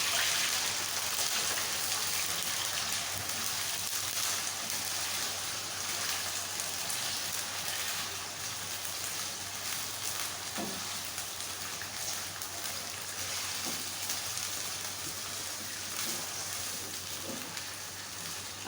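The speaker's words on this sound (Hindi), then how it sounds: "सबसे पहले मैं आलू डालूँगी, थोड़ा फ्राई करूँगी" Potatoes frying in hot oil in a pan for aloo palak give off a steady, dense sizzle that stays close and even throughout, with a few faint clinks and no voices.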